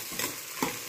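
Soaked peas fry in oil for vegetable pulao, a brief steady sizzle with two soft stirring scrapes.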